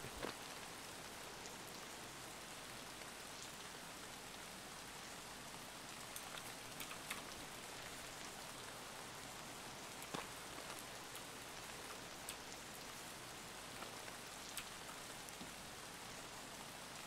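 Steady rain falls in the video game Escape From Tarkov, a continuous even hiss of drops on surfaces with faint scattered patters, moderately quiet and alone without voices.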